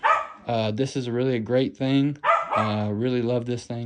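A dog barks and yips in the background while someone talks at length about his hunting bag gear, the barks partly overlapping his speech.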